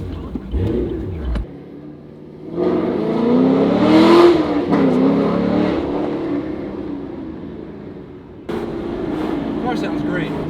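Camaro on a test drive, the engine revving and accelerating hard with a rising, throaty roar, dropping away and then climbing again, heard from inside the car with voices talking over it.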